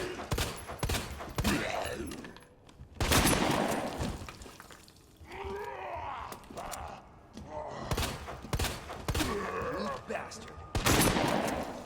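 Shotgun blasts in the Resident Evil 2 remake video game, several loud, sharp booms spaced a few seconds apart, mixed with in-game zombie groans and movement, while a voice talks over the action.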